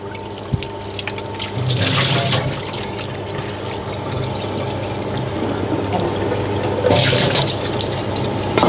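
Raw chicken being washed in salted water in a sink, with a steady rush of running tap water, splashing and sloshing that swells twice as the pieces are handled, close and continuous.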